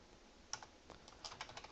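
Quick, light keystrokes clatter on a computer keyboard at an uneven typing pace, close and fairly quiet, with no voices.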